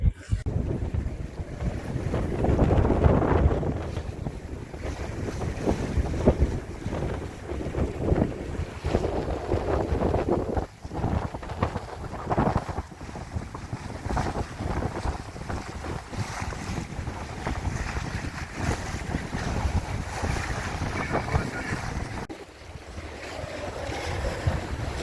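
A sailboat heels through a choppy sea at about five knots, with steady wind buffeting the microphone and waves rushing and slapping against the hull throughout, loud and close with no talking.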